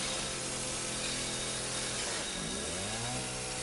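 Chainsaw in the Resident Evil 7 video game, a loud continuous buzzing engine whine that sputters and drops in pitch toward the end as it breaks.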